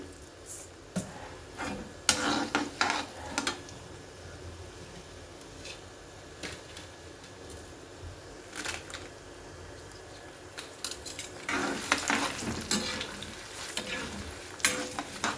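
Urad dal and mustard seeds fry in hot oil for pulihora, with a continuous sizzle and repeated loud bursts of popping and spluttering, close up.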